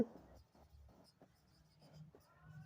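A pen scratches across paper in short repeated strokes while working out a geometry problem about two circles and their common tangent, with someone speaking quietly over the writing.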